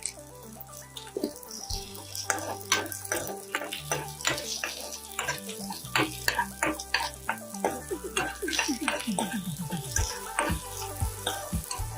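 Shallots and slit green chillies sautéing in coconut oil, with a busy run of scraping and stirring strokes over a soft sizzle, close and fairly continuous.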